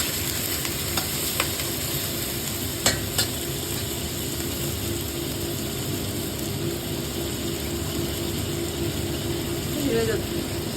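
Chicken strips with potatoes stir-frying in a wok, a continuous close sizzle broken by scraping and clacking from a spatula against the metal, with a few sharper knocks.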